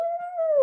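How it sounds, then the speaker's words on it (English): A pet dog lets out one brief, clear howl close by, a single sustained tone that slides slowly downward and ends abruptly, with no voices. "Sorry, that's my dog."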